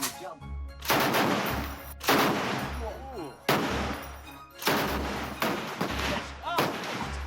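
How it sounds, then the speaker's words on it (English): Bursts of M60 machine gun fire at an outdoor shooting range, loud and close, coming in several rapid volleys with brief gaps and a little chatter between them. "First up, the M60, an American machine gun and Rambo's weapon of choice."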